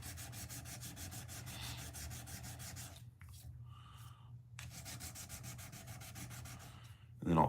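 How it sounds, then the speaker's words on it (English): Repaired knife with new handles sanded and ground clean, a steady loud abrasive rubbing that runs almost continuously, pausing briefly midway and ending with a sharp louder scrape. "I'm just kind of cleaning up where I've been sanding and grinding"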